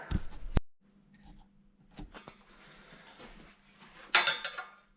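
Sheet metal for a radiator catch can is bent on a homemade box pan folder with homemade teeth, giving sharp metallic clanks and thumps separated by quieter handling, close by.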